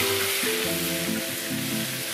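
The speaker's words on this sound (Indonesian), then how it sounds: "Minyaknya udah panas, kita akan masukin bumbu-bumbu yang udah kita giling tadi." Ground spice paste sizzles steadily in hot oil in a pot, a loud, continuous frying hiss that fills the short clip, with faint tonal sounds beneath it.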